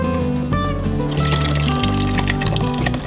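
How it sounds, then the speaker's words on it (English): Oatmeal is poured into a pot of boiling water, giving a steady liquid filling and gushing sound for a few seconds over background music. "we're gonna take our oatmeal and we could ladle it or we could just pour it on in"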